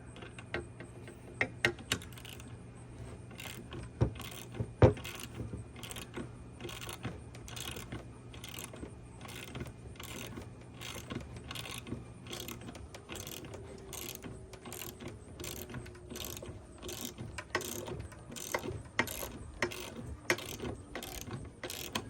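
A ratchet socket wrench turns a front suspension bolt during a bushing and ball joint refresh, giving a long, steady run of rapid, regular metallic clicks, close and fairly quiet, with occasional louder clanks.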